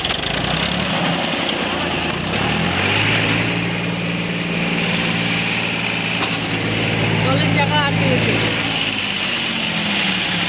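A tractor hauling a trolley labors in deep mud, its engine droning steadily and rising in pitch as it strains with a wheel stuck, while voices talk over the noise throughout.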